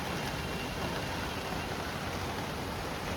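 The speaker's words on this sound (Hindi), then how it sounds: "बहुत तेज़ तो नहीं है मगर हाँ अच्छी बारिश हो रही है।" Steady, soft rain falls outdoors during the first heavy monsoon shower, an even hiss of drops that stays constant and fairly distant throughout, with no voices.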